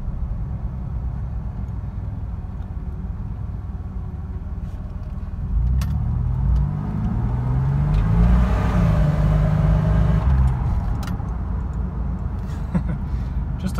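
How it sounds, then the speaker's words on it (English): A 1993 GMC Typhoon turbocharged truck drives along the road, its engine hum building midway as it accelerates, then easing into a steady cruise with some background noise. "Fun truck to drive, and you know, when you're not on the gas, it's nice and quiet, cruises nice and straight down the road."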